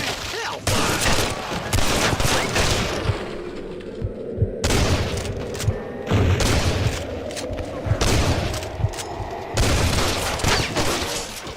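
Heavy, sustained gunfire in the PC video game Red Dead Redemption: dense volleys of shots crack almost nonstop. Brief gaps break the barrage, and a voice can occasionally be heard underneath.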